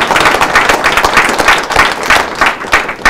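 Audience at the 2018 Freedom Summit clapping for speaker Mark Victor, a dense, close burst of applause with rhythmic hand claps throughout and no talk.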